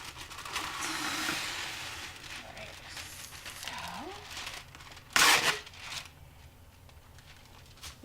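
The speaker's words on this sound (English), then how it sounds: "first I'm going to get wax paper and spread it out so that way cleaning the counter will be so much easier" Reynolds wax paper pulled out and spread on a kitchen counter, soft crinkling and rustling with a sharp tearing crackle midway, heard close under a person talking.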